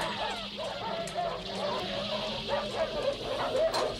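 A dog in the horror film The Thing barks and whimpers with a run of yips and whines at moderate volume, heard over a busy film soundtrack with faint speech underneath.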